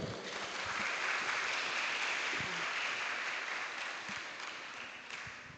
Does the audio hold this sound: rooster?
no